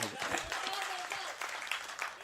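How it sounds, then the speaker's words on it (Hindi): Faint audience clapping at a mushaira poetry gathering, scattered and fairly distant, with a voice or tonal sound drifting through the first half. "तालियां।"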